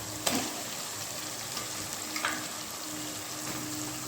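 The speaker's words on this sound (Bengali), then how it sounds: "এবার আমি এর মধ্যে অ্যাড করে দেব পেঁয়াজ লঙ্কা আদা রসুনের বাটাটা" Onion, chili, ginger and garlic paste sizzles in a pan with fried onions for a chicken curry, a steady close frying hiss with a couple of light utensil knocks and no talk.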